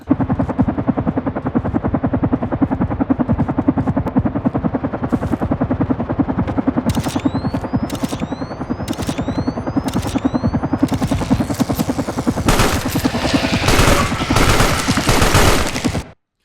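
Helicopter rotor drone with rapid bursts of machine-gun fire in the horror video game Carrion, loud and continuous, with sharp sweeping shots and heavier blasts building toward the end, no talking.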